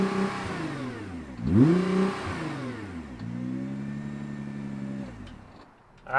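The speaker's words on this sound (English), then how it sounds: "let's fire up this GTR and hear what it sounds like" A 2021 Nissan GT-R R35 engine fires up with a quick whir and catch, surges into a loud rev that falls back, then holds a steady idle before another throttle blip at the end, close and isolated.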